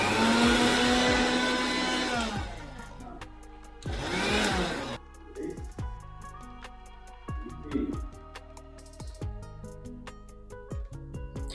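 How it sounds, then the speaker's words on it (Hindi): A mixer grinder runs on pulse mode with boondi inside, whirring loudly for a couple of seconds, pausing, then whirring again, followed by lighter rattling and clinking of the boondi. "थोड़ी-थोड़ी सी बूंदी लेकर के मिक्सी में डाल कर के पल्स मोड पर हल्का-सा रुक-रुक करके इसे चलाएँगे"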